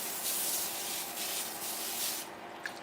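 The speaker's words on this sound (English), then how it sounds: "I will use the olive oil because I want to spray the pan this time." Olive oil sprayed onto a pan: a continuous hissing spray lasts a couple of seconds, with slight surges, then stops, leaving a faint click.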